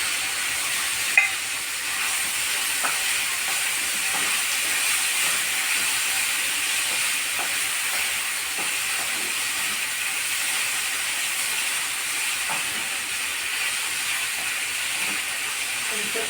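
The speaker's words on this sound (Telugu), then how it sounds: "కొంచెం ఫ్రై అయ్యే వరకు ఇలా కలుపుతూ ఉండాలి" Ridge gourd and fresh grated coconut fry in a pan and are stirred steadily, giving a continuous sizzle and hiss with soft scraping clicks of the spoon throughout, and no voices.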